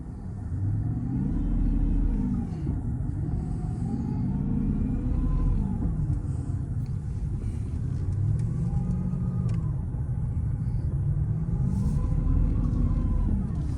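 A Mercedes CL600 losing power while driving gives a steady low engine rumble with slow rising and falling surges in pitch, heard from inside the car.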